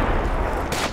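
A deep, heavy blast from an anti-tank weapon in the military shooter game Project Reality, a sustained booming roar with a sharp crack of brighter noise near the end, loud and close.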